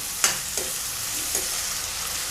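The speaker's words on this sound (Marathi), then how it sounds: "कांदा नरम झाला तसा टोमॅटो घालून घेऊया छान असं परतून घेऊया" Tomato sautéed in oil over softened onion for a snake gourd and chana dal bhaji. A steady close sizzle runs throughout, broken by three sharp clacks of a spoon stirring the pan, with no one talking.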